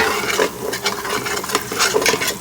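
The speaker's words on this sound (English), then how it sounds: "You want to make sure that you scrape off all the good bacon flavor off the bottom." A utensil scrapes bacon and onions across the bottom of a pan in quick, close, repeated strokes, with a light sizzle underneath.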